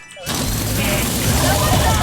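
A huge explosion from a monster's ultimate attack in a video game erupts suddenly and loudly, then rumbles and crackles as a dense, sustained roar.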